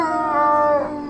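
Wolves howl in the WolfQuest video game, several long wavering voices overlapping in a steady, close chorus that rises and then falls away near the end.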